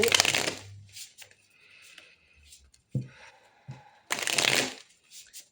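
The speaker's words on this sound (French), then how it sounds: "on va tirer 3 cartes avec le tarot" Tarot cards are shuffled by hand in quick riffling bursts at the start and again near the end, close and crisp, with soft handling taps in between.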